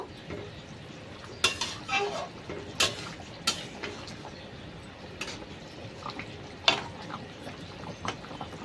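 A spoon stirs diced potato and pointed gourd with salt in a pan, giving quiet, irregular scrapes and sharp metallic clinks over a soft background hiss.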